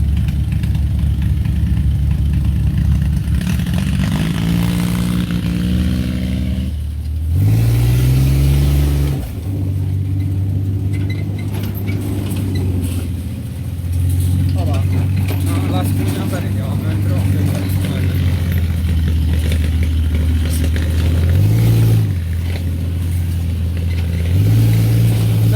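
Dune buggy with a bare metal frame, wheels and engine, running steadily with several revs rising and falling, its engine drone loud and close throughout in the Dominican Republic countryside.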